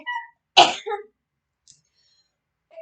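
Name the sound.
sneeze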